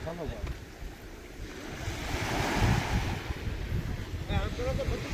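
Sea waves washing around a fishing boat heading out to catch shrimp off the Gujarat coast, a continuous surging wash with wind buffeting the microphone, swelling in the middle.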